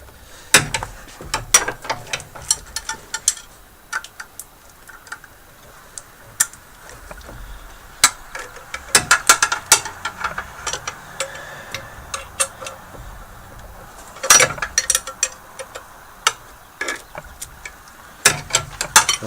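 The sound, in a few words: long 15 millimeter wrench loosening a bolt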